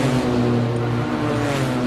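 A loud race car engine roars close by at the Simola Hill Climb, a sustained droning howl with steady pitch filling the whole moment.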